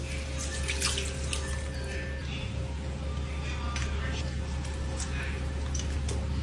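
Water poured into a cooking pot holding pork chops, a steady splashing stream over a constant kitchen hum, close and fairly loud throughout.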